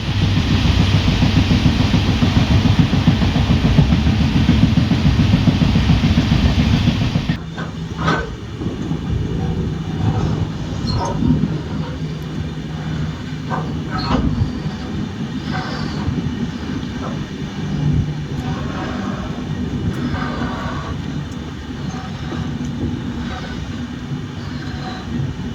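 Interior of the Thiruvananthapuram to Chennai Superfast Express with new LHB coaches, a steady loud rumble of the running train with rhythmic clatter and creaks, shifting to a slightly quieter, more open roar partway through.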